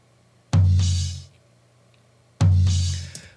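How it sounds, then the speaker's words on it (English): Two heavy floor tom hits, well apart, with low end boosted by the RBass plugin, each with a deep boomy low end and a long decaying ring, loud and close. "now the floor tom sounds like this"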